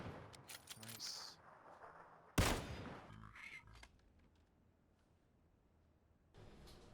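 Gunfire in PUBG: several quick shots, then one loud, close crack that fades into a short echoing tail. Quieter shots follow, and the sound grows sparse and faint toward the end.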